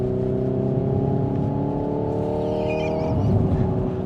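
A Hyundai Ioniq 5 N electric hot hatch accelerates on sunny Warwickshire roads, with a strong layered synthetic engine-like tone rising and stepping through pitch, heard steadily from inside the car without talking.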